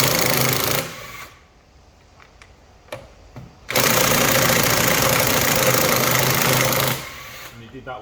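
An impact gun loosens wheel nuts in two loud, sustained bursts of rapid hammering, separated by a quieter gap with a few sharp clicks.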